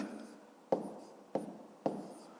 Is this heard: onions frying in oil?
no